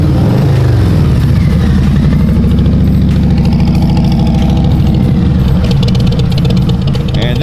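A Harley-Davidson Tri Glide motorcycle with hollowed-out factory exhaust pipes idles loud and close with a deep, rumbling, uneven burble that lopes steadily throughout.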